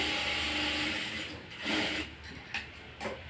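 Sewing machine stitching a blouse sleeve seam, a steady whirring run of about a second and a half that breaks into short bursts and clicks, close by, with no talk.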